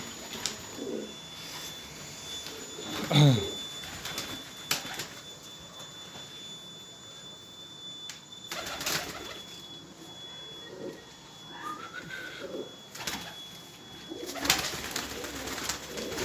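Pigeons on a balcony coo in soft, scattered bursts, with one fuller coo standing out early. Brief sharp knocks and rustles break in now and then over a steady faint background hum.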